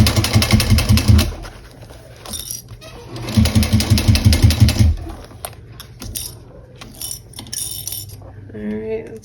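A sewing machine runs close by in two rapid, rattling bursts, basting a curved seam on a small bowler bag, with quieter handling sounds and clicks between and after the runs.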